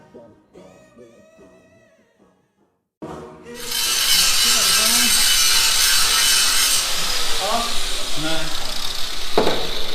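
Metal work on a rear suspension hanger of a 1996 Silverado. After a quiet stretch with talk, a loud, close power-tool grinding starts abruptly and runs continuously with slight variations.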